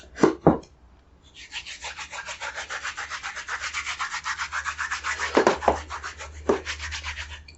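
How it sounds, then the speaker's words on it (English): Salt crystals rubbed between hands make a close, crisp gritty rasp in steady rhythmic strokes, preceded by a couple of soft handling taps. "I'm going to take some salt in my hands."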